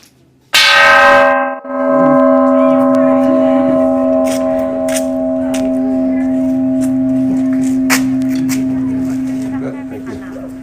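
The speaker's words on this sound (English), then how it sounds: "Anybody else like to strike the bell?" A large temple bell struck once at a Joya New Year service, a loud close strike followed by a long, steady ringing hum that holds for several seconds and slowly fades.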